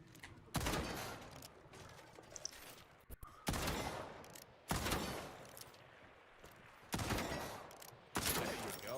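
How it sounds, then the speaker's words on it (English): Video game weapon fire: several loud gunshot bursts at irregular intervals, each with a sharp onset and decaying tail, separated by quieter stretches without talk. "We can start by firing your weapon. Go ahead, take some shots."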